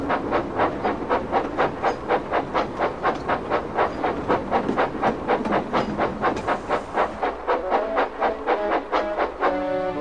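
A steam engine puffs up a hill with loud, close, evenly spaced chuffs that repeat rapidly and steadily, each with a hissing edge, and no voices.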